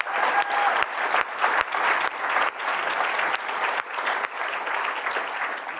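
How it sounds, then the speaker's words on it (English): Audience applause fills a hall after a public lecture, steady and dense with sharper claps near the start, continuous throughout with no speech over it. "So applause might be appropriate."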